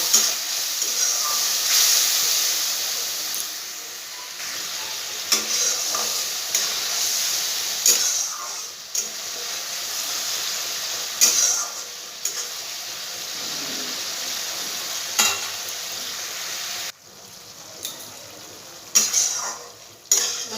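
Cumin and coriander powder paste sautéed in a pan for a potato and papad curry, a soft continuous hiss and sizzle with intermittent scraping stirs and spoon clinks close by.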